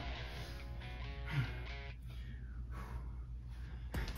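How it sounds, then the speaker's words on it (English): Breathing in and out through the mouth during an abs workout: audible sharp inhales and exhales, close and fairly quiet, over a faint background of music. "Breathe in and out through the mouth."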